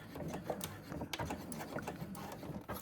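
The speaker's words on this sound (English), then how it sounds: "Keeping my threads tight, I'm going to be sewing at about 1/8 of an inch," Domestic sewing machine stitching a seam close to the edge of thick fabric with a zip, giving a steady, close mechanical whirr with quick rhythmic clicks throughout, no voices.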